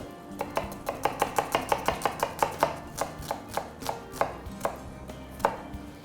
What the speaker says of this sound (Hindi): Just gonna chop it very, just add the onions in the butter,